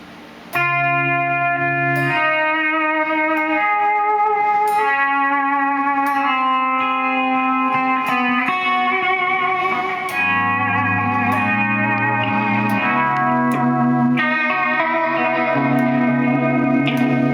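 Sustained electric guitar notes that swell in softly without a sharp attack, layered with reverb and echo into a lush, continuous wash.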